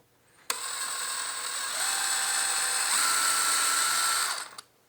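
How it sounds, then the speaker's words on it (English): A power drill bores a pilot hole for a guitar tuner screw: a sudden start into a steady high-pitched whine that shifts pitch slightly partway through, then stops abruptly with a brief click. "We're not going to go all the way in, we're just going to make a pilot hole."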